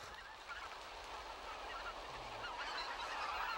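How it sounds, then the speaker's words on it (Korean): Geese and other migratory birds gathered in harvested rice paddies near the Cheorwon DMZ in cold weather honk continuously as a dense, overlapping flock chorus, steady and moderately distant. "철원 DMZ 인근의 12만 평 일대 논밭은 추위를 피해 한반도에 날아든 철새들의 차지가 된다."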